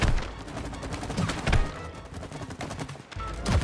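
Rapid gunfire from the video game It Takes Two, a dense run of repeated shots at steady loudness through the whole stretch, with brief heavier bursts.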